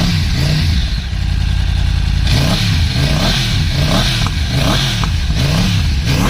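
A 2014 BMW S1000RR superbike with a cross-plane engine revs loudly close by, a steady idle breaking into a series of rhythmic throttle blips that rise and fall repeatedly, with a mechanical clatter underneath.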